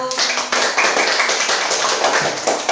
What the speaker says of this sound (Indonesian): Ayo maju ke depan, beri tepuk tangan untuk kelompok 1